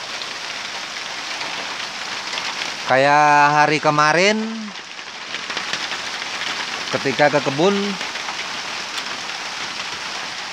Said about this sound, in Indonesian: lihat suasana hujan yang begini